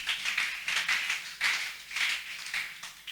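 A church congregation applauding to acclaim Jesus, a steady wash of many hands clapping in pulsing swells, fairly close and filling the room, with no speech.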